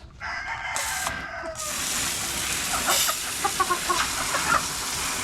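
Chickens in a backyard coop, a rooster crowing near the start, then a steady noisy din with scattered short clucks and squawks from the flock, close and fairly loud.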